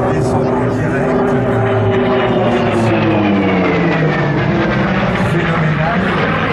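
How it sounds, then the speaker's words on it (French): A Hawker Sea Fury propeller fighter flies past at an airshow, its steady droning engine roar shifting slowly in pitch. An announcer talks over it the whole time. "cet avion est un Hawker Sea Fury"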